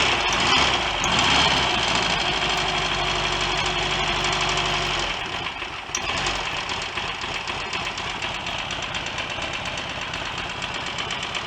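A Royal Enfield Constellation motorcycle engine runs loud and close with a rapid mechanical knocking beat, dropping to a slightly lower, steadier idle partway through.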